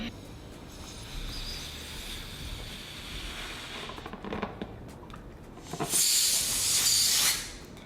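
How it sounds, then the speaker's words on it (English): Air escaping from a blown-up balloon, a long steady hiss that builds and ends in a brighter, louder rushing burst before cutting off. "take a balloon and blow it up and then let all the air out"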